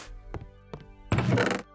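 Blocks are placed in modded Minecraft: two short soft thunks, then a louder, longer crunchy placement sound, all close and dry with no talking.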